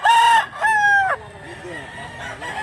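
A blue-legged gamecock at a cockfighting event in Mantalungon, Cebu crows loudly and close, two strong harmonic calls in quick succession followed by softer clucking, with brief voices nearby.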